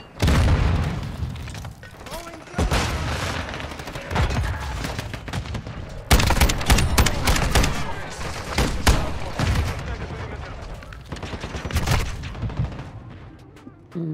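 Decoy grenade in Modern Warfare 2 multiplayer spitting out fake gunfire, with bursts of shots and booms running throughout amid ongoing game noise and someone talking over it.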